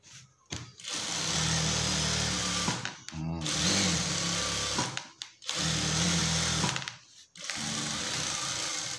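Sewing machine stitching trouseres in a jeans style, running in two long loud bursts with a steady mechanical whir, separated by short pauses.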